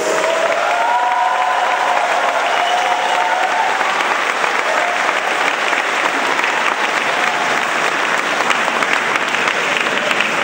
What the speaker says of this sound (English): another warm round of applause for the Philippine Madrigal Singers